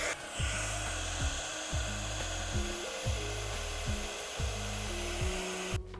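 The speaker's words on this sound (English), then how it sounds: "So this is a heat gun. It's basically a small hair dryer" A heat gun blows on a tiny snow globe tree, giving a steady, fairly loud airy whoosh that runs without a break, with a regularly repeating low hum beneath it.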